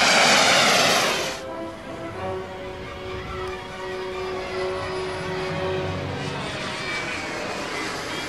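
A turbine-powered FOX MD1 model sailplane with a 7.5 m wingspan flies aerobatic quarter rolls, its steady engine drone and whine carrying from a distance after a loud rushing burst at the start.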